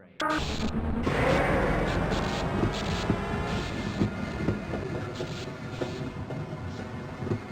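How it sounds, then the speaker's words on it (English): A rail train in the video game Half-Life: Blue Shift rumbles and clanks steadily, with a low rolling drone and scattered metallic knocks and no talk over it. "Once engaged, move forward or backward to increase or decrease the speed of the train."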